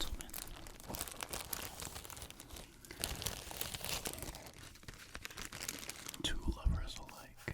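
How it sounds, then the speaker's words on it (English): Protective plastic is peeled off a new ASMR tool close to the mic, giving dense, crisp crinkling and crackling with a few sharper tearing rustles, under soft whispered talk. "I almost feel wrong taking out its protective plastic"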